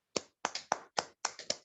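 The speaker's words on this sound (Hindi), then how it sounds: "हम आपको ताली बजा करके हम स्टेज में लाना चाहते हैं" Seven or so sparse handclaps, quite faint and evenly spaced, as a church fellowship audience welcomes a speaker to the stage, with no talking.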